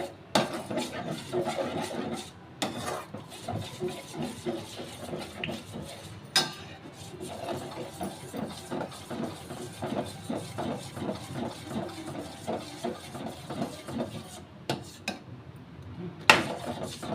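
A spoon scraping and stirring thick almond halwa in a pan after saffron-infused milk goes in, with repeated soft rhythmic scrapes and clinks, close and steady, no talking.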